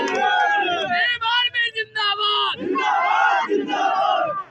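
A crowd of about 4,000 protesters shouts together at a protest in Ghatampur, loud and close, in sustained surging cries with brief gaps.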